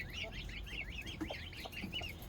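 Hens cluck and chatter on a homestead in June, a close run of repeated quick, nasal clucks with a rhythmic pattern over a low outdoor background.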